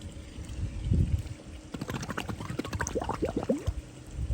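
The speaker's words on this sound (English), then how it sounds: "when you put this back in, you want to fill it with water" Water gurgles and splashes as an automatic pool cleaner's leaf canister is filled, starting with a low slosh, then a burst of bubbling, rising trickles and pours, close and fairly quiet.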